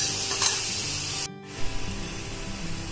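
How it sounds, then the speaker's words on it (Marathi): Spices crackle and sizzle in hot tempering oil over a low flame, a steady close frying hiss with a short drop partway through before it resumes. "आपली फोडणी चांगली कडक बसते"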